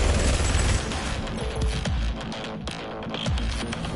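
Sustained gunfire from a favourite weapon in the video game Doom Eternal, dense rapid blasts mixed with heavy booming game action, loud and continuous.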